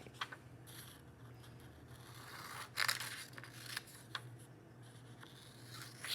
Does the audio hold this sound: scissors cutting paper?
yes